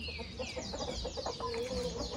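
Hens clucking close by in a backyard coop during egg collection, a steady busy chatter of short clucks filling the whole moment with no talking.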